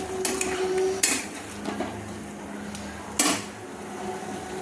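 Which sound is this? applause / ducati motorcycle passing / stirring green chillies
stirring green chillies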